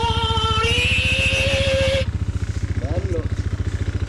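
A Cagiva Mito 125 motorcycle engine runs close by with a steady, rapid pulsing beat, and a higher whine fades out after the first couple of seconds.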